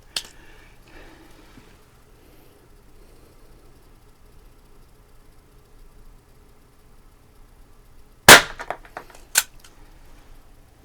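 A Diana Chaser .22 caliber CO2 pistol fires two sharp, loud cracks a second apart near the end, after a long stretch of quiet outdoor background with a faint click at the start.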